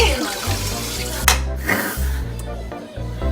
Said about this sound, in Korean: 이거 좀 씻자